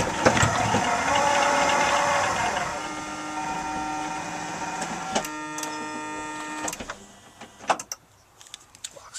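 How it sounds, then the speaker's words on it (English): A 2003 Honda Odyssey power sliding door closes by key fob: a steady motor whir and whine runs for several seconds, then a few sharp latching clunks and clicks follow close by, with no talking. "I'm going to close the door using my key fob."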